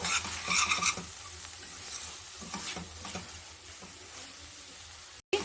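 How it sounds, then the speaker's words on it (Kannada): Ridge gourd palya with ground coconut is stirred in a pan, giving soft scraping and shuffling strokes with faint sizzling, loudest at the start and quieter afterward. "ಸೇರಿಸ್ಕೊಂಡು ಒಂದ್ಸಲ ನೀಟಾಗಿ ಮಿಕ್ಸ್ ಮಾಡಿ ಬಿಡೋಣ."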